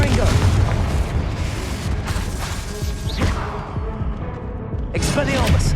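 Explosions from the Confringo fire spell in Hogwarts Legacy boom in quick succession during a wizard duel, loud and close, over a continuous rumble, with voices shouting between the blasts.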